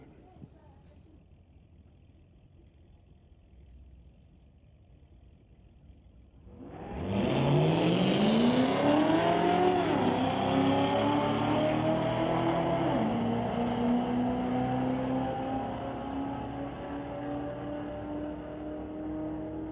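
A Corvette and a 2024 Ford pickup launch in a drag race at Mission Raceway Park. After quiet ambience, engines roar up abruptly, rising in pitch through gear shifts, loud and sustained, with talk underneath.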